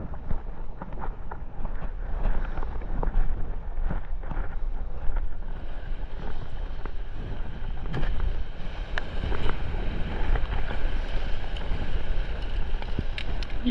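Strong wind buffets and roars steadily throughout on a Hawaiian shore, with a constant low rumble and occasional gusty bursts near open water.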